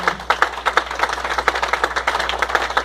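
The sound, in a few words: congregation clapping for the Lord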